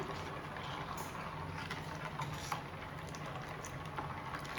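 Mango pulp cooks in a pot, giving a steady soft bubbling and simmering hiss that stays even throughout, with no voices.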